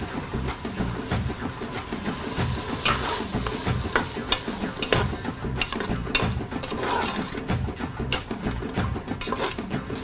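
Mutton frying in oil in a pan with tomato and curry masala powder, a steady close sizzle with repeated stirring scrapes and clatter running throughout.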